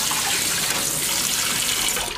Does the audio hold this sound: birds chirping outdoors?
no